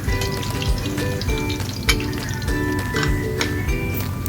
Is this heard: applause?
no